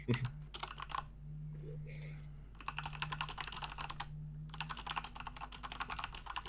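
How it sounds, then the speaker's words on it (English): Rapid bursts of clattering keystrokes on a computer keyboard, pausing briefly between flurries, with a low hum underneath. "if you hear me spamming on the keyboard"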